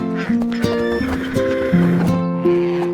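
A horse neighs in a drawn-out whinny over a layer of bright tonal nursery-rhyme music, the call rising and wavering across a few seconds.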